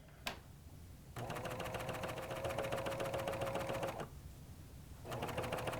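A serger stitching and cutting fabric runs in two loud, steady mechanical bursts with a rapid even chatter, separated by a short pause, preceded by a single click, close up and without talk.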